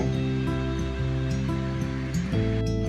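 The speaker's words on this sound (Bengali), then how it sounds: "আমি একটু সময় নিয়ে থানকুনি পাতার পেস্টটা ভালো মতন ভেজে নেব" Thankuni (Asiatic pennywort) leaf paste fries in a pan over a medium gas flame, giving a steady, close sizzle that runs unbroken under a low, constant hum, with no talking.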